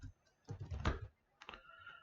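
Fingers typing a PowerShell command on a computer keyboard, a quick burst of clustered key clicks followed by a pause and a second shorter run of taps, close and clear.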